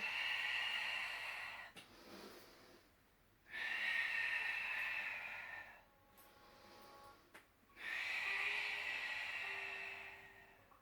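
Three long, breathy exhalations during a Pilates routine, each a soft airy rush lasting a couple of seconds, separated by brief pauses. The breaths are close and fairly quiet, with no talk over them.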